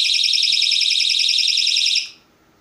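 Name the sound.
smoke alarm set off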